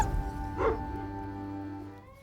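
A Neapolitan Mastiff gives a single deep bark-like yelp that tails into a whimper, close by, with a low humming background.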